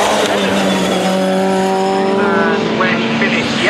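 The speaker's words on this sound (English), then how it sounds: "Andrew Morrison, who comes out of the final corner now." A race car from a 2011 NSSCC race, Classes A, E, F and G, roars out of the final corner, its loud high engine note holding steady and then rising through the gears as it passes close.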